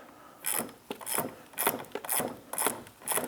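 A ratchet wrench tightens the positive battery terminal on a 2005 Ford F350 Power Stroke, giving six steady, evenly spaced bursts of close, crisp ratcheting clicks with no talking.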